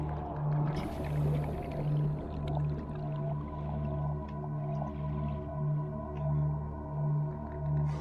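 Deep, rumbling roar of a reaper leviathan in the Subnautica video game, heard in VR among the shallows, a low pulsing growl repeating in regular swells over constant underwater ambience, distant and without talk.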